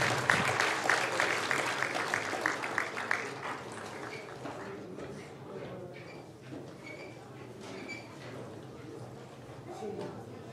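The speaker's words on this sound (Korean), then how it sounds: "우리 아들, 딸들 주일학교 연합성가대를 큰 박수로 어른들이 맞이해 주시기 바랍니다" Applause from a church congregation welcoming a combined Sunday school children's choir, starting loud and dense in the first few seconds, then thinning out beneath murmuring voices and room noise.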